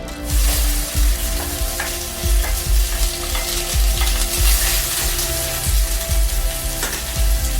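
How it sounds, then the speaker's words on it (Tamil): Small shallots sizzling in hot oil with fenugreek in a pan for a Tamil anchovy curry, a loud, continuous crackling fry with rhythmic stirring scrapes repeating about once a second. "சின்ன வெங்காயம் போடலாம்."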